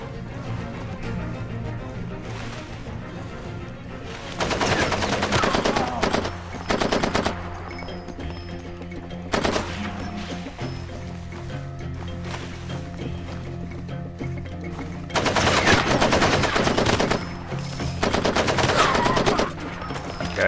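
Bursts of AK rifle fire in the video game Far Cry 2, several sustained automatic volleys separated by quieter stretches, loud and close over a steady low game ambience.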